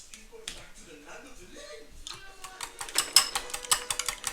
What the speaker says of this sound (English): we just whisk the ingredients together